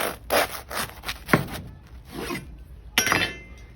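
A knife saws through a grilled chorizo sandwich in a series of close, rasping strokes with short pauses between them, several cuts coming in quick bursts.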